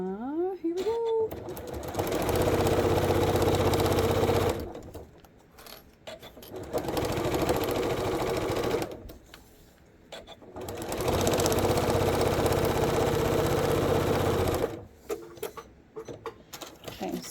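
A sewing machine stitches quilt blocks in three long steady runs separated by short pauses, with a voice talking quietly in the gaps.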